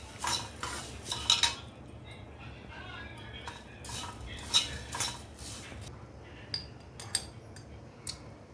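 A spoon clinks and scrapes against a pan while stirring a puffed rice mixture with a drop of oil and a pinch of turmeric, giving irregular bursts of metallic taps over a soft background hum.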